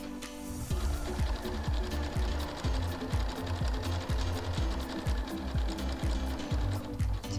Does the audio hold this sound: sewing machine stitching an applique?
yes